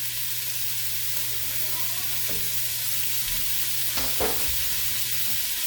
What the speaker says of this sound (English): we have our onions and celery that we cut up earlier. So all that goes right in.